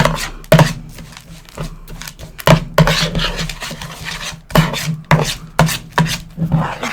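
A moist birdseed mixture for a cookie-cutter bird feeder is worked and mixed in a bowl, making repeated close scraping and rasping strokes in an uneven rhythm, with no voices.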